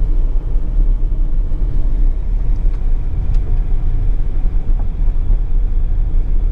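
A car drives along a road, its engine and tyre rumble filling the cabin as a constant loud, low drone with steady road noise and no pauses.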